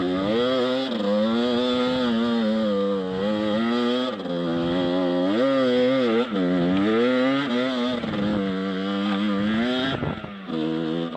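A Beta 50cc enduro motorcycle engine drones steadily while riding, its two-stroke buzz rising and falling in pitch as the throttle opens and eases, loud and close throughout with no talking.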